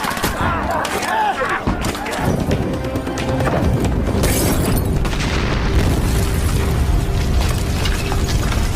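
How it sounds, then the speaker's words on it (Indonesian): Bomb blast destroying an enemy bunker doused with oil in a Korean war film, a heavy booming explosion with crashing debris and a sustained roaring rumble, loud and close under dramatic film sound. "Jintai menyiramkan minyak ke setiap sudut bangkar musuh dan akan diledakkan oleh bom."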